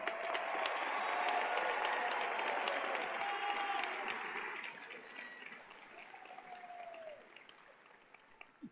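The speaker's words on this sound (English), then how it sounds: "Let's give them a round of applause." An audience at the Louisiana Tech University Fall 2001 commencement applauds the graduates. The dense, steady clapping starts full and gradually thins and fades over several seconds.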